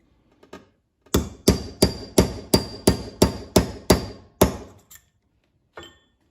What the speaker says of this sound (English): I just stick it in there and hammer it the rest of the way out